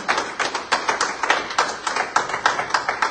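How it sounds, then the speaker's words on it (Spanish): A church congregation claps in praise to the Lord during a Spanish-language sermon, steady rhythmic clapping close by, many hands striking in a quick repeating beat. "Denle un aplauso al Señor ahí."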